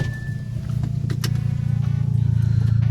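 An Audi on an uphill mountain touge run, its engine and loud exhaust droning up from idle into a rising, pulsing rev, close and strong.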